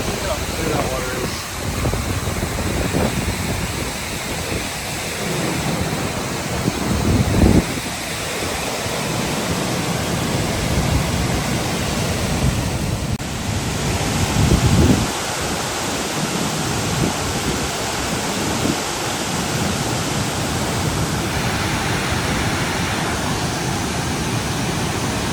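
McArthur-Burney Falls roaring in a constant broadband wash of falling water and mist, loud and close, with brief voices and wind gusts rising over the steady rush.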